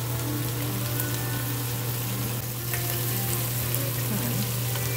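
About a pound of jumbo shrimp searing in a big pan, a steady, close, continuous sizzle and crackle of frying with a low hum beneath, no talking.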